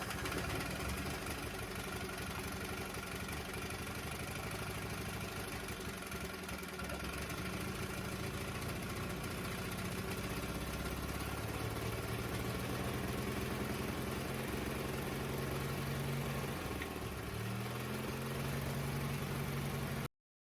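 A Briggs & Stratton 18 hp twin-cylinder engine runs steadily on a makeshift gas tank with the throttle open and choke on, giving a continuous close, loud mechanical drone with a slight dip in pitch near the end.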